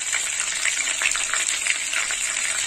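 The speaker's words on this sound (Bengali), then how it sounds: "ফোড়নে দিয়েছি শুকনো লঙ্কা 2টো, তেজপাতা আর গোটা গরম মশলা" Dried chillies, bay leaves and whole garam masala spices hit hot oil in a pan, making a steady, close crackling sizzle that runs throughout with small bursts of popping.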